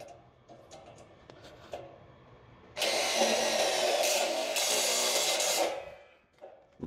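Power drill drives a self-drilling screw into light-gauge steel (baja ringan), a sustained loud whir that starts abruptly, runs about three seconds, then cuts off, with quiet room noise before and after.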